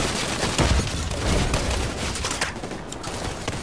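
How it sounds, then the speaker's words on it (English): Mortar fire and gunfire in The Division 2 video game, a dense rattle of shots and booming impacts in quick succession, loud and continuous with a brief lull near the end. "Mortar!"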